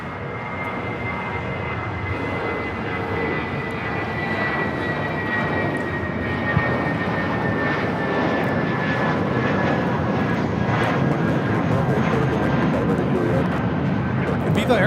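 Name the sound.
Viva Aerobus A320 jet taking off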